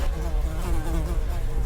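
Dense, continuous insect buzzing from a swarm of fruit flies, steady and close throughout with a low droning hum beneath it and no voices.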